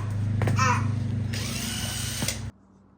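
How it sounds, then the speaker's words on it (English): A child's toy power drill whirs close by for about two and a half seconds with a steady motor buzz and a slight ratcheting edge, then cuts off abruptly, leaving quiet room tone. "Oh, is that the drill?"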